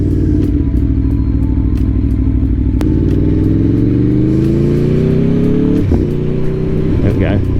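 A 2021 Aprilia Tuono V4 Factory motorcycle engine pulls hard and loud through the revs, its rising drone interrupted by quick-shifter gear changes, with wind roar as the rider talks over it.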